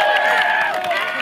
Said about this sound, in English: Let's cheer them.